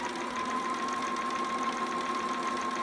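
A sewing machine stitches a romper strap past a ruffle, running in a steady, fast mechanical whir with a rapid even needle rhythm, close and unbroken, with no talk.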